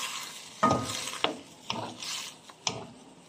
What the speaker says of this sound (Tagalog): Pagkatapos ng toyo, lagyan na po natin ng oyster sauce. Ayan. Tapos, haluin natin ulit.